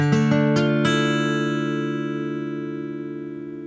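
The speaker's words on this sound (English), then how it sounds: "You hear different harmonic overtones." Several quick strums on a Taylor acoustic guitar lead into a chord that rings on, its layered overtones sustaining and gradually decaying over a few seconds.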